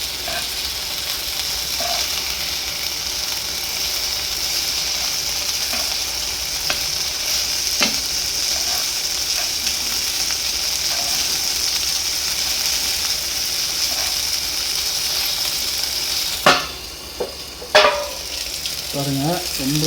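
Marinated chicken sizzles in a hot pan over high heat, a loud steady hiss with occasional scrapes as it is stirred, and louder clatters of stirring near the end.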